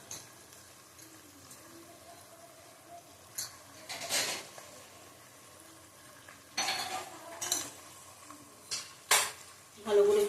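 Mutton liver sautéing with Kashmiri chili powder in a pan: a low, quiet sizzle with intermittent sharp scrapes and clinks of a spoon stirring, close by, no talking.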